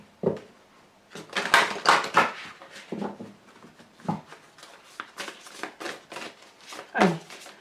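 Tarot cards shuffled and handled at a reading, giving a run of crisp riffling and slapping bursts with brief pauses, close and fairly loud; a voice can be heard faintly between the bursts.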